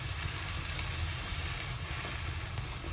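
Dal sizzles loudly in hot tempering oil while being stirred, in an Andhra-style raw mango dal made in a home kitchen, a dense continuous crackle and hiss with no voices.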